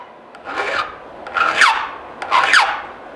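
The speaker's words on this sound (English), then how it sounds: "I'll file the rake" A metal file rasps across the rakers of a chainsaw chain in three close strokes, each a short grating scrape with a brief pause between them, heard near and alone.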